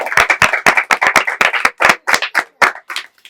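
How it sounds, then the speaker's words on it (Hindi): Loud, close clapping at a children's Holi celebration, a quick uneven run of sharp claps from a small group that thins out and spreads apart toward the end. "तो एक बार दोनों टीम्स के लिए जोरदार तालियां।"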